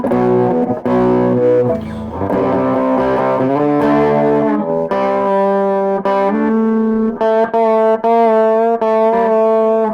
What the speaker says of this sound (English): Let's try it with some distortion.